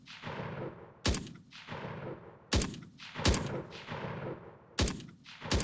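An enemy soldier fires a gun in an Unreal Engine 5 military first-person shooter game: about five sharp, loud shots at irregular intervals over a continuous rumbling background.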